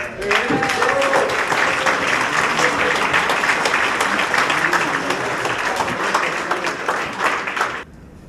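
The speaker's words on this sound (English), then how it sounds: "could we give a round of applause to the counters?" Sustained applause fills a Workers' Party conference hall for the vote counters, a dense, loud wash of many hands clapping that holds steady for several seconds before cutting off abruptly.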